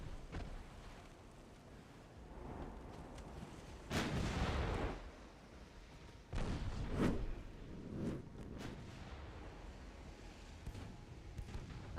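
Naval guns fire in the Ultimate Admiral: Dreadnoughts warship game, a few heavy booms with rumbling tails standing out over a low wind and sea ambience, moderately loud and with no talk.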